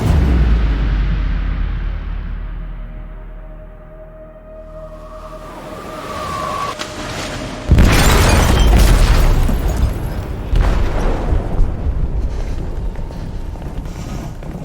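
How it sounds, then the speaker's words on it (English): An explosion set off in the hold of a ship in the video game Detroit: Become Human: a sudden loud, heavy boom with a broad roaring burst, after rumbling ambience and a rising tone, followed by crashing, rumbling debris and further impacts. "They detonated an explosive in the hold."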